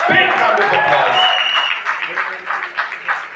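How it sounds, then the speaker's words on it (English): Applause at a film song launch event, crowd clapping starting loud then tapering off, with a voice speaking over it near the start. "I think she deserves a big round of applause."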